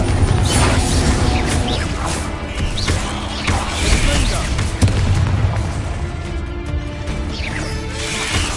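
Confringo spell explosions in the video game Hogwarts Legacy, a steady run of loud booms, crashes and bursts from magic combat layered over constant battle noise, with a spoken voice mixed in.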